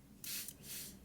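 Two quick hissing bursts of an Avene thermal water spray bottle misting, close and soft, in a quiet room.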